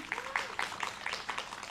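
Audience applause at a talk on youth and collaboration, a faint, steady patter of scattered hand claps heard at a distance with a voice briefly underneath.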